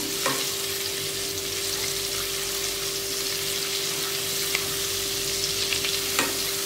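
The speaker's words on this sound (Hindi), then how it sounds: "अच्छे से भूनेंगे रॉ स्मेल चले जानी चाहिए" Garlic fries on a high flame for vegetable fried rice, a loud continuous sizzle up close with scattered sharp pops and light scraping, plus a steady tonal hum running underneath; nobody speaks.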